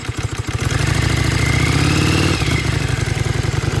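A Yamaha Virago XV535 motorcycle engine starts with a brief cranking chatter and catches into a loud, steady, close-up idle with a fast pulsing thump, holding evenly throughout.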